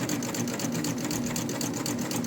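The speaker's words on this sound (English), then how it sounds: "I always sew off onto a piece of fabric just because I find it easier" A sewing machine stitching a triple cover stitch on exercise-wear fabric runs steadily at a moderate pace, a continuous close mechanical whir with rapid rhythmic needle clatter throughout.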